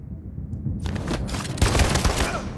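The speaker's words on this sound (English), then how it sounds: "Yep, I knew he had that aim on him. Nice shot, Connor." Video game gunfire from Detroit Become Human rings out as a short, dense burst of loud shots layered over a booming background, lasting a couple of seconds.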